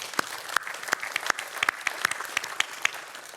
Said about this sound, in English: I want to ask everyone here to give a big round of applause